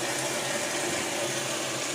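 Water pours steadily into a Whirlpool Kenmore top-load washing machine tub during the fill, a continuous loud rushing hiss with no breaks.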